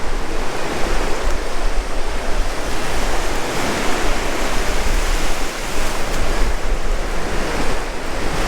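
Rough sea surf breaking over coral at the rocky southwestern tip of Oahu, Hawaii, a continuous loud wash of waves with steady wind noise and no pause throughout.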